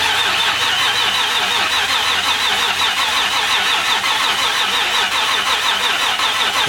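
A freshly built engine in a Nissan 350Z fires up for the first time, then runs loud and steady for several seconds with a dense, rough mechanical roar close by.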